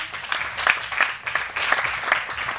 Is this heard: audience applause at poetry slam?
yes